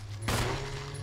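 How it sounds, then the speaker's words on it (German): A single loud gunshot from the Resident Evil HD Remaster video game, a sharp burst that decays into a lingering game ambience with a steady low hum underneath. "Vier Schüsse hast du ausgehalten, mein Freund."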